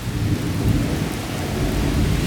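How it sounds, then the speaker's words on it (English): Thunder rumbles through a severe thunderstorm with heavy rain and wind-blown trees, a loud, continuous low roar lasting the whole moment with rain hissing steadily on top. "You can definitely hear the sound of the thunder and lightning."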